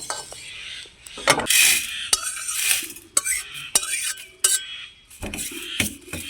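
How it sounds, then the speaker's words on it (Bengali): Dry-roasted whole spices being tipped out of a dry pan, with metal scraping and clinking of a spoon against the pan, bursts of rattling spice, and scattered sharp knocks between quieter pauses. "মশলাগুলোকে শুকনো খোলায় ভালোভাবে ভেজে নিয়েছি, এখন ঢেলে নেব।"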